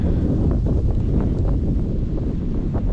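Steady wind buffeting the microphone in the bush on a windy day, a dense low roar that continues without a break, with faint rustling mixed in.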